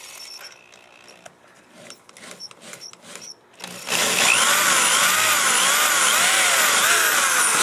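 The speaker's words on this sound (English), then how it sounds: "Go ahead and drill all 6 bottom ones" A power drill bores holes through a Harley-Davidson Tour-Pak during assembly. Soft handling clicks give way to a loud, steady, close whirring grind that wavers slightly in pitch and runs without a break.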